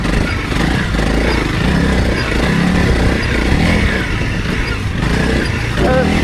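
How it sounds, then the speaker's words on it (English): A dirt bike rides hard over a series of whoops, its engine roaring loud and continuous with rattling chassis clatter throughout. "these are a series of whoops that you could just rail on the dirt bike"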